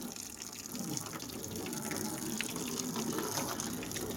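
Water gushes and splashes steadily while a car is washed during the Songkran water festival, a loud continuous rush that runs through the whole stretch.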